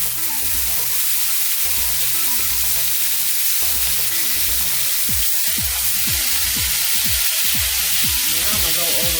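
Lamb chops seasoned with onion powder, Himalayan pink salt and Mrs. Dash sizzle loudly in a frying pan, a dense, constant crackling hiss close up, with a voice faintly underneath toward the end.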